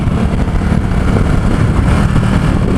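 Ducati SuperSport S motorcycle engine, a 2017 model, running steadily while riding at highway speed, a continuous smooth drone mixed with wind rush, loud and close throughout with no voices.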